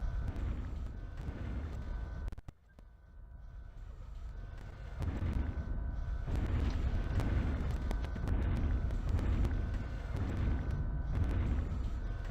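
Game mechs in MechWarrior 3 trade gunfire and explosions, heavy booming blasts and crackling shots rolling in bursts at moderate loudness after a brief quiet dip near the start.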